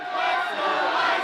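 Fans of the Will Howard cheering section at an ice hockey game roar together in a loud, dense crowd cheer that holds steady through the brief moment.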